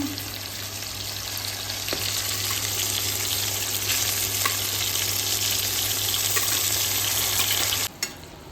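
Chicken frying in a pan with wilted gongura (sorrel leaves) gives a loud, steady sizzle that runs unbroken for about eight seconds before dropping away abruptly at the end, with no talking over it.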